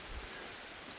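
Steady rain falls on a lake in the Adirondacks, a faint, even hiss with no distinct drops, continuous and far-off sounding.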